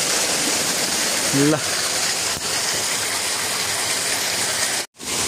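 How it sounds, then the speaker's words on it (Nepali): Water streams and splashes down a steep, overgrown hillside, a continuous loud rushing wash that fills the whole stretch, with a brief voice heard once over it. "यस्तो छ पानी यता जङजङ झरिरहेछ"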